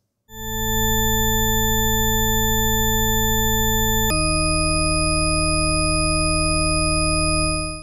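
Two pure, steady test tones play one after the other, each holding for about four seconds, the second pitched noticeably higher than the first.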